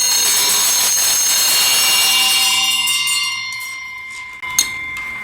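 A ritual hand bell rings during a Tibetan Buddhist Amitayus practice, opening with a bright, sustained shimmer that slowly fades away before a light tap near the end.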